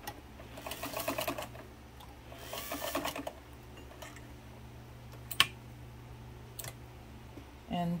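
A Singer 237 sewing machine stitches a zigzag in short bursts of quick mechanical chatter separated by quieter pauses, with a few isolated clicks and a low background hum.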